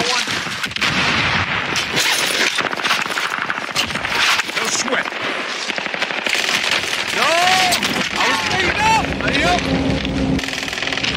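Gunfire from the battle royale game Warzone crackles in dense, rapid bursts throughout, mixed with game effects and chirpy sweeping tones near the end, with voices talking over the shooting.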